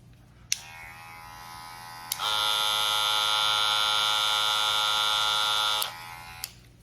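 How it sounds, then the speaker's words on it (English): An older electric hair clipper, about two years old, switches on with a click and runs in a steady, loud, high-pitched buzz for several seconds before clicking off, with faint clicks of handling before and after. "This is an older clipper. That's about 2 years old."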